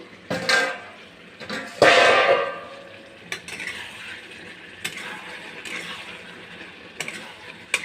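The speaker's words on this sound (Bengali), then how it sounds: "ঢাকনাটা খুলে একটু নাড়াচাড়া করে নেবো" A lid comes off a pan of ridge gourd and potato curry with a couple of clanks, then a spoon stirs and scrapes the cooking vegetables, close and moderately loud.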